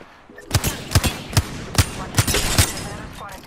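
Gunfire in a video game: about seven loud, sharp shots in a steady, evenly spaced rhythm, close and punchy, followed by a brief quieter tail, with no talking.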